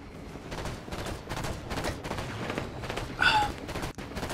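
Gunfire from a Halo 5 multiplayer match crackles in steady bursts through the whole stretch, with a sharper, louder shot near the end.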